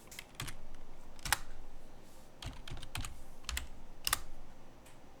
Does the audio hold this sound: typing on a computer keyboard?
yes